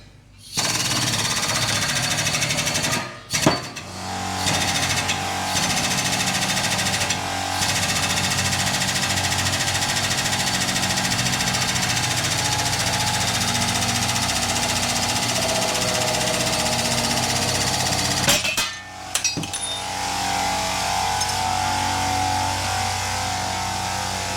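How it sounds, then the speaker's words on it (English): An air compressor runs loudly and steadily in a workshop during a wheel bearing removal on a Ford Territory AWD, with a few brief cutouts and clunks near the start and toward the end. "So the compressor rudely interrupted me there"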